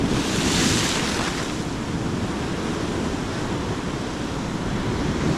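Sea waves wash steadily onto the shore at a fishing spot, a loud, unbroken surf roar with gusting wind rumbling across the microphone.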